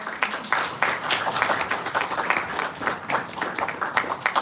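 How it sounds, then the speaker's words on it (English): Audience applause at a European Parliament forum: moderate, uneven clapping from a room of listeners, fairly quiet and somewhat distant, with no talk over it. "There is huge applause"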